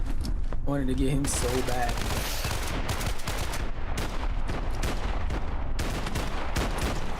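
Shotgun gunfire in a video game, a dense run of loud, rapid booming shots over the whole stretch, with a brief burst of other game sound early on.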